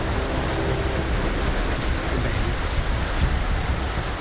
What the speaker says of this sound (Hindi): सुबह सुबह शुरू हुई बरसात रुक रुक कर पूरे दिन जारी रही।